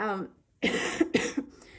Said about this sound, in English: I'm having trouble making a video where I don't cough